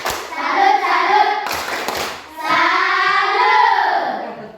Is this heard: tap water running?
no